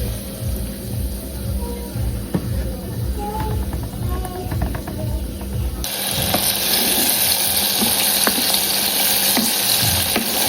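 KFC-style chicken pieces drop into hot oil, and a loud, bright sizzle suddenly rises and then holds steady. Before that there is quieter kitchen background with faint clatter.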